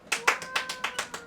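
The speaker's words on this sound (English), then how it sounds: "That earns a round of applause" A small round of applause after a lesson: a handful of separate, evenly spaced hand claps, faint and close, with no talking.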